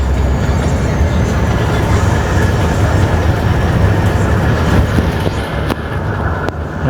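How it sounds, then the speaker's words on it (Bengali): A diesel train engine pulls away on the move, a loud, steady broadband rumble with rolling low-end clatter running continuously throughout, easing slightly near the end. "এখন যাচ্ছে আমাদের ইঞ্জিন"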